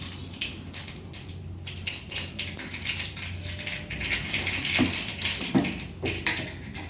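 Mustard seeds sputter and crackle in hot oil in a pan while pohe is cooked, a dense, steady run of small pops and sizzles close by with a few sharper spits near the end.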